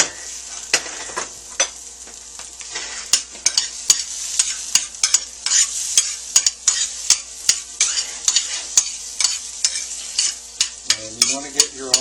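Almonds toast in a hot pan, stirred constantly so they give sharp, repeated scraping clicks over a soft frying sizzle, close and clear with no voices.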